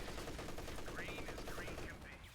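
Sustained MG34 machine gun fire from the video game Company of Heroes 2, a steady loud rattle running throughout with a voice speaking over it.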